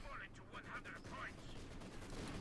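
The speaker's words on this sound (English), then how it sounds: "Panther machine guns doing some heavy damage there, 5 kills." Machine guns on Panther tanks fire in Company of Heroes 2, a rapid run of shots and bursts layered with other battle noise while a commentator talks over the action.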